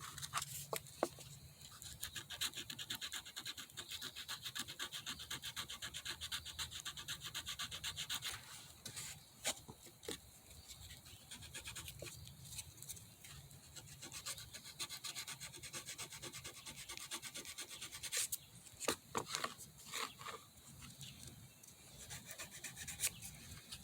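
An old knife blade being hand-sanded with successive grits: continuous quick back-and-forth rasping strokes, close and fairly quiet, with a brief pause midway and a few sharper scratches near the end, no voices.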